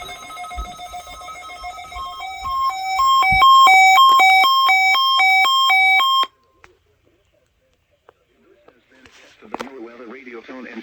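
Emergency Alert System weekly test tones from a NOAA weather radio receiver: a loud run of alternating electronic beeps lasting about six seconds, then near silence with faint background noise.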